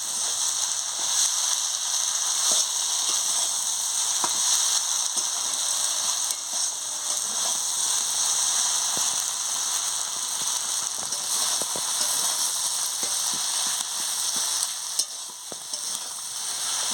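Khasla greens frying in oil as they are stirred, a continuous bright sizzle close by with frequent small scraping clicks from the spatula against the pan throughout.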